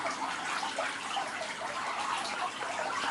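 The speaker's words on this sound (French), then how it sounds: "l'eau est aussi vivifiée dans cette cascade là" Water trickles and splashes steadily over a small cascade in a garden pond biotope, a continuous close babbling rush with no pauses.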